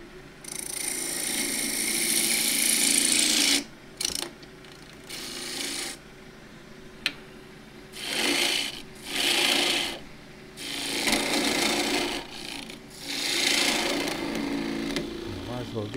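A gouge roughs down a Huon pine box lid on a wood lathe, giving loud, rasping cutting bursts that stop and start with short pauses between passes.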